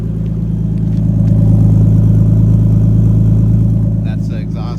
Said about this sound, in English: That's the exhaust there.